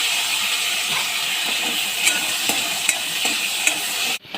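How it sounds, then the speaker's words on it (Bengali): Pieces of gathi kochu taro frying in oil left from frying shrimp: a continuous close hiss and crackle with periodic soft clicks of a spatula stirring the pan. "চিংড়ি ভাজা তেলে আমি কচুগুলো ভেজে নেবো"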